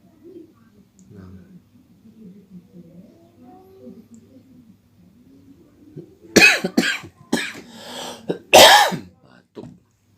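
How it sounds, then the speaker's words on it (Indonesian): Several sharp, loud coughs in a quick cluster, following a stretch of quiet, low murmuring. "Batuk."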